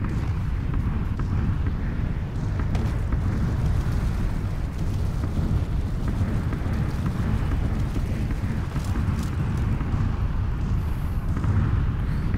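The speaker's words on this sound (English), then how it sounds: "all the explosions going on out there, that is due to the damage zone" Distant explosions in a video game's red damage zone produce a steady, muffled rumbling that continues without a break, with no talking.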